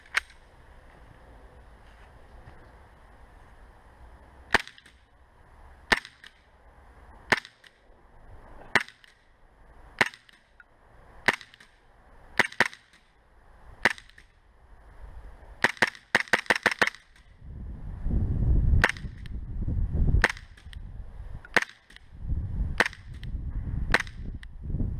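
A WE Glock 17 gas airsoft pistol fires test shots at a target about 20 meters away, a series of sharp, snapping pops spaced about a second or two apart, with a quick burst in the middle and louder handling noise later.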